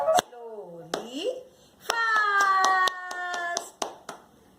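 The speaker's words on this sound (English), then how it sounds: "Now we will clap our hands." In a children's class, hands clap a few slow, spaced beats, then a quicker run of claps, while a voice speaks or sings in a sing-song tone over them.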